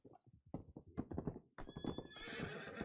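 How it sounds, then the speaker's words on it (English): A horse inside a train station in a Western video game shifts and snorts with hoof clops, then lets out a loud whinny, heard close, alongside a faint game voice. "There's a fucking horse in the train station"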